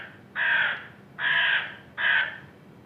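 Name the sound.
crow cawing, played recording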